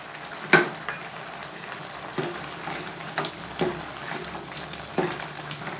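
Garlic and ginger sizzle softly in a hot pan for chicken karahi, with a few clinks and scrapes of stirring breaking through the steady frying hiss.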